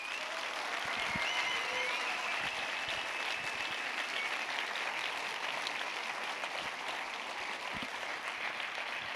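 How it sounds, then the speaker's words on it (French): A festival closing evening audience sends up a sustained wash of applause, dense and even throughout, with a few sharper individual claps standing out and the crowd heard at a moderate distance. "Et applaudissez-les très,"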